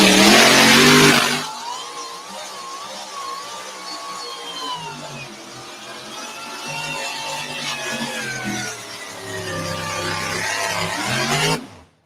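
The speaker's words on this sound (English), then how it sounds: "Something not quite sounding right in that truck." A truck-pulling truck engine roars loud and close as it drags a weight sled, the pitch dipping and bogging slightly mid-pull before rising again, then cutting off abruptly.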